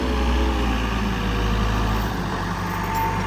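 A truck engine idles close and steady, a continuous low rumble with no other sounds over it.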